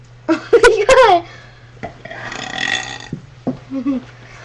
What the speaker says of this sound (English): we're going to do a few more burps